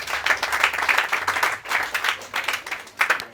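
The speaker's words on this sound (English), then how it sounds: "Clap for yourselves." Students at a school Red Cross club handing-over ceremony clap for themselves, moderately loud, in uneven bursts that rise and dip over a few seconds with no talk over them.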